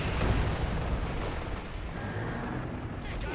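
Dense, continuous gunfire and booming blasts fill a chaotic World War II tank battle in the video game Company of Heroes, with a grenade explosion amid sustained shooting at steady loudness throughout.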